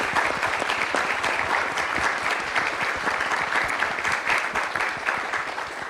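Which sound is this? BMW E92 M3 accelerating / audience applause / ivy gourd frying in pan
audience applause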